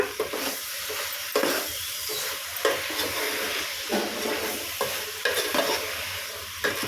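Bottle gourd sambar stirred in a pot after salt goes in, with a spoon scraping and swishing through the thick liquid in repeated strokes over a low bubbling background, no voices.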